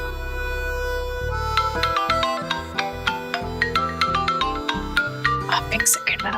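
A bright electronic ringtone melody plays loudly, starting with a sustained tone and then repeating quick chiming notes in a steady rhythm.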